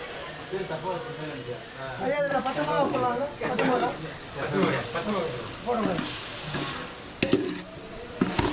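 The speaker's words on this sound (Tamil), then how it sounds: "இந்த தக்காளியும் சேர்த்து நல்லா வதக்கணும்." Tomatoes sauté with onions in a large pan for a big batch of drumstick kara kulambu, giving a soft sizzle and stirring under a voice that talks throughout.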